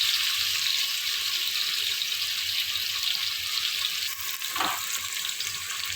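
Plenty of chopped onions frying in a pan, giving a steady, bright hiss of sizzling oil with one brief scrape or stir near the end, close and with no talking.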